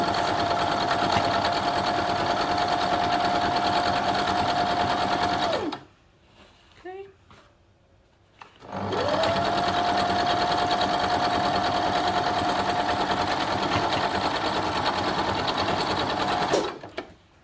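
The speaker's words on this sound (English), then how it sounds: "So I'm just hooking that on and then stitching the length." Sewing machine stitching a seam on a log cabin quilt block, running in two long steady bursts with a brief pause between, loud and close, with the motor's constant hum throughout.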